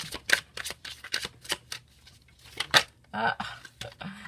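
Astrology almanac cards being shuffled in a series of quick, close riffling bursts with brief pauses between them, and soft voice sounds in between.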